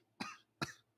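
Two sharp coughs about half a second apart, close and dry, with near silence around them and no talk.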